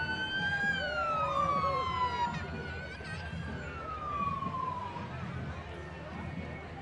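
A police car siren wails through a Christmas parade, its rising and falling tone sweeping over steady crowd and road noise at moderate distance.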